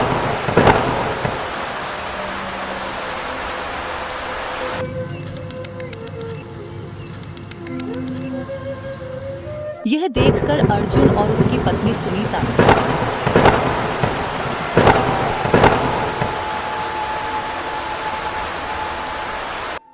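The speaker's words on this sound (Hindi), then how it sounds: "लेकिन तभी जोरदार बारिश हो गई" Heavy rain pours steadily with loud rolling thunder cracks repeating throughout, a brief quieter stretch in the middle, and a voice speaking over the storm.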